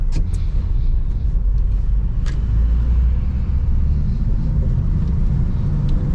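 A manual-transmission truck engine rumbles low and steady while downshifting into third and then second for a corner, with a few faint clicks over the constant drone.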